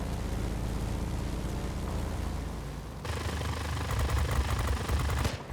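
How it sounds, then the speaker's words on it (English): Aircraft machine guns on a P-82B Twin Mustang in the World of Warplanes air-combat game fire in a dense, continuous rattle over steady engine drone, growing louder and harsher in the second half. "Those centralized machine guns, too, are really powerful"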